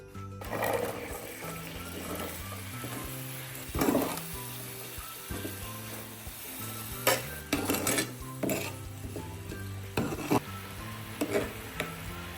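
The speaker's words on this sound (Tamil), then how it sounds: "சின்னதாக வெட்டின பீட்ரூட் துண்டுகளையும் அப்படியே சீனி பாகிலே வதக்கி எடுத்துக்கொள்ளுங்க" Small-cut beetroot pieces sautéing in sugar syrup in a pan, soft sizzling with repeated clinks and scrapes of a spoon stirring against the metal, close and alone.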